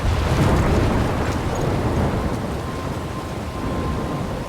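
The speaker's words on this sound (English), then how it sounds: "I'm trapped in a storm?" Storm ambience from the video game Life Is Strange: a steady, loud wash of wind and rain with a low rumbling undertone that holds throughout without distinct thunder cracks.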